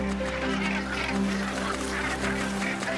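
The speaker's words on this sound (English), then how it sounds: "Bonaventure Island, the largest northern gannet colony in North America" Dense colony of northern gannets calling on Bonaventure Island, a constant overlapping chorus of harsh, honking seabird cries, loud and close throughout with no pause.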